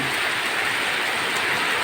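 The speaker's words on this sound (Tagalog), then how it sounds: "Lakas nga pala ng ulan ngayon, no? Maliban sa ulan, hangin pa." Heavy rain pours steadily with wind, a dense, loud hiss with no letup and no voices.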